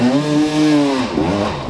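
A motorbike engine revs hard at the base of a hill climb, its loud, close buzzing note rising and falling in pitch through quick throttle blips.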